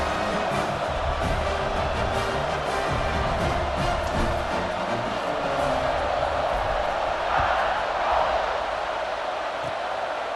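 A stadium crowd roars steadily in EA Sports College Football 26 during a kickoff after a scoring drive, a dense, loud wash of cheering with a slight swell near the end.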